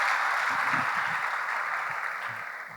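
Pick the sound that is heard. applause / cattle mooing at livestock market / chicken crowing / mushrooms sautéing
applause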